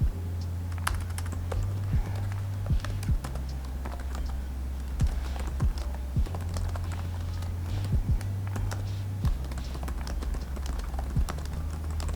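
Fingers type an email on a computer keyboard in a home studio, giving a steady stream of close, soft key clicks with occasional louder taps over a constant low hum.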